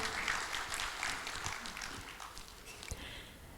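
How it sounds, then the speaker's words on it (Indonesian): Moderate applause from a conference audience at a plaque presentation in Jakarta, a dense patter of hand claps that slowly thins out. "Boleh kita berikan tepuk tangan Bapak Ibu hadirin sekalian."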